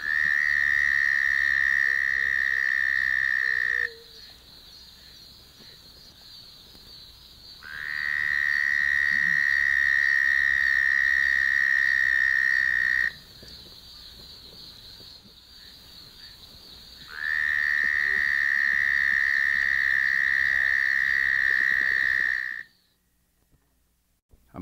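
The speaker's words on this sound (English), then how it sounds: "The larger of the two is a southern toad, Bufo terrestris, with a relatively loud trill." A southern toad (Bufo terrestris) gives three long, loud, steady trills, each lasting several seconds and separated by short pauses.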